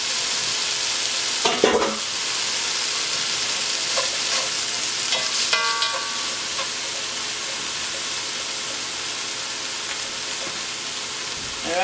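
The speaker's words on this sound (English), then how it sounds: "now I'm going to go ahead and add my beans, my chickpeas I should say, and then I'm just going to go ahead and saute these" Chickpeas sautéing in olive oil in a pan give a steady sizzle with occasional stirring scrapes, close and continuous, no voices.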